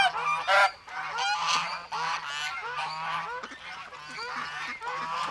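Geese honk loudly and repeatedly in a farmyard, a goose parent calling out for a gosling, with several overlapping nasal calls in rapid succession close by.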